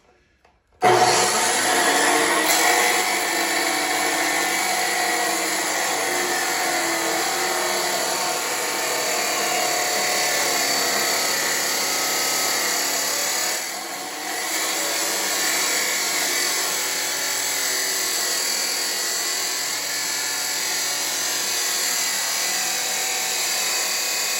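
A power tool cuts through a truck tailgate at the welds, a loud continuous high-pitched whine that starts suddenly and holds steady for over twenty seconds, dipping briefly midway, close and with no talking.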